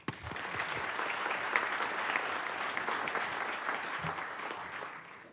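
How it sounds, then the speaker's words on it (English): Steady applause from an audience at a town council meeting, a dense sustained clatter of clapping hands lasting several seconds before tapering off at the end. "let's say hi and applaud for Racine."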